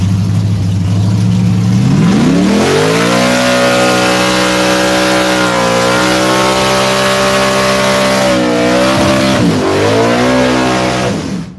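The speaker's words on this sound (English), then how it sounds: "Ooh, I like that burnout right there. That's a good strong motor" A drag racing car at a local drag strip revs hard during a burnout, its engine note climbing and holding at a loud, strained high pitch with slight wavering, close and continuous throughout.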